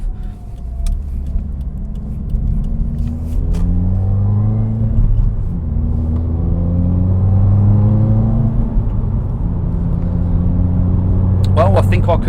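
A 2016 Subaru WRX engine drones and revs steadily from inside the car, rising and falling in pitch as it accelerates through gears, with no one speaking.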